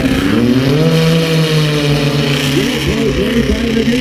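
Turbocharged snowmobiles of 600-plus horsepower launching side by side in a drag race, a loud sustained engine roar with rising revs, close and continuous.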